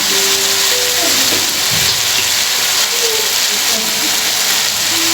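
Kaleji being stir-fried in a pan as soy sauce goes in, giving a steady loud sizzle with a bubbling, rain-like hiss and occasional stirring scrapes.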